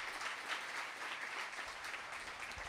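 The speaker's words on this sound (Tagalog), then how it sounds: "Mas malakas ang palakpak naman po para sa atin." Anniversary celebration audience clapping louder on cue in an event hall; a brief, dense patter of many hands, fairly distant and soft, with no voices.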